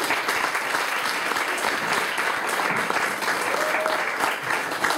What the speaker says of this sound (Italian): Grazie, un applauso per voi.